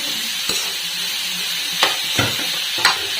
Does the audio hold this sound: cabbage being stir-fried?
yes